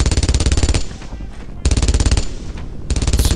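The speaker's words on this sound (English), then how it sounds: "There's the machine gun guy." Machine gun fire in the Brothers In Arms: Earned In Blood video game rattles out in loud, rapid bursts, two long volleys separated by a brief lull, close and dominant.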